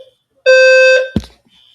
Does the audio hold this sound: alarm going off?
yes